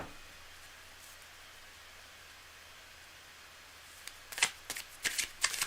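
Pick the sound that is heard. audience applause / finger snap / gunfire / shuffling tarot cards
shuffling tarot cards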